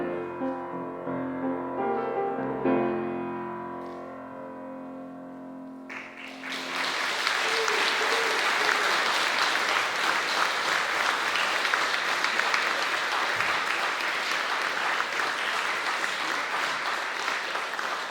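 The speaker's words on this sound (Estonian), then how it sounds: "Aitäh aplausi eest ja jätkame." A musical passage fades out and a song-day crowd breaks into sustained, loud applause that continues evenly to the end.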